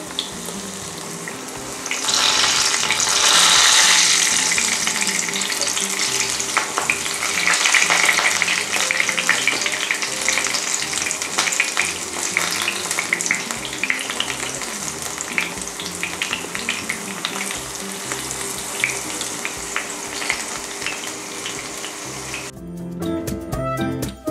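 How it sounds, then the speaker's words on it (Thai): Battered water spinach deep-frying in hot oil for a crispy vegetarian salad, a loud, steady sizzle and crackle that flares up early and keeps bubbling evenly throughout with no talking. "ทอดไปเรื่อยๆครับ"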